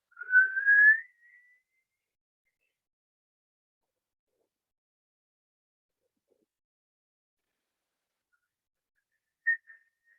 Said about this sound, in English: try to make a whistling sound if you can on the inhale